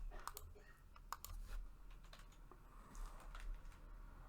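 Faint, irregular keystrokes tap on a computer keyboard in quick bursts and pauses, quiet and close, with no voices.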